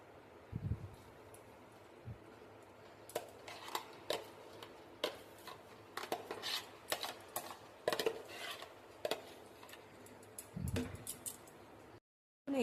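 Chopped garlic and mango tipped into a bowl holding chillies for homemade pickle, heard as a run of light clinks, taps and scraping rustles at close range, with a couple of soft thumps.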